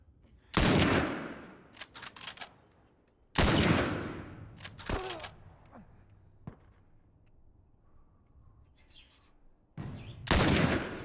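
Gunfire from The Last of Us video game cracks out in several loud bursts of shots, with single scattered shots and faint chirping in the gaps between volleys.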